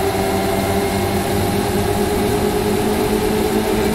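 Formula Ford race car engine pulling hard in third gear on track, a loud steady droning roar with a sustained pitch held throughout, heard close and alone.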